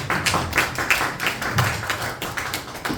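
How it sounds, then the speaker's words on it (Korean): Audience applause welcoming a speaker at a civic regulation forum, a lively crowd of hands clapping with distinct bursts of sharp claps rolling on across the whole stretch. "박수로 맞이해 주시면 감사하겠습니다"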